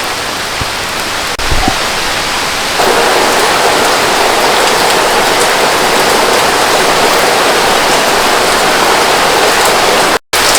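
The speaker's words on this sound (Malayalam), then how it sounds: "അതെ ഇപ്പോൾ ഇവിടെ നല്ല മഴയാണ് കേട്ടോ" Heavy monsoon rain in Kerala pours down as a loud, continuous roar of water, thickening slightly after the first few seconds and cutting out for an instant near the end.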